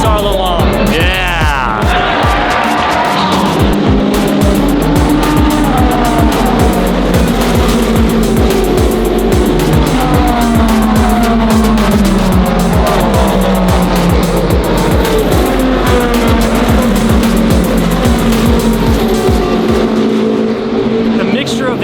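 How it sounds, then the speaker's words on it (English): LMGT cars and hypercars racing at Lone Star Le Mans, loud engines screaming and shifting pitch as cars pass and accelerate throughout, with people talking over the continuous race noise. "The mixture of the LMGT cars and the hypercars makes it so good"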